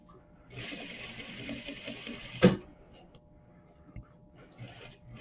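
A sewing machine runs steadily, stitching a horsehair braid hem on a muslin sample at a short stitch length, then stops with a brief sharp click before quieter handling sounds follow.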